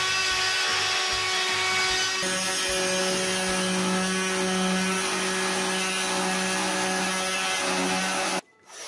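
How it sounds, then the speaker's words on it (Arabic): A jigsaw, here a handheld cutting tool called an afreet, saws through plywood along a ruled line in a close, loud, steady buzzing whine with strong harmonic tones, running continuously and then cutting off abruptly near the end. "وبعد كده نخش بالعفريت"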